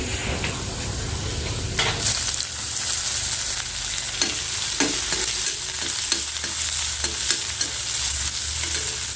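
Cumin, curry leaves and mustard seeds crackle and sizzle in hot oil, with a loud burst at first, then steady frying and a few sharp stirring clinks close by.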